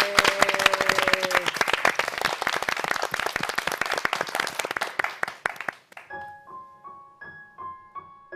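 An audience at a church talk show claps loudly and steadily for several seconds, then the applause dies away as a soft melodic instrumental intro begins.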